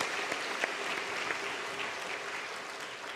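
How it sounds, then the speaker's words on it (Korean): A church congregation applauds its choir during a Sunday afternoon worship service, dense steady clapping from many hands filling the room at an even level throughout, with no voices over it. "그렇게 앞서서 본을 보여준 우리 흰돌 찬양대에게 격려의 박수 보내주세요"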